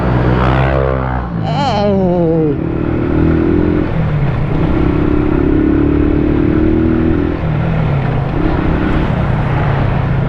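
A Rusi Rango 110 semi-automatic motorcycle engine runs steadily and loud up close, with a rising rev near the start and a continuous droning hum throughout.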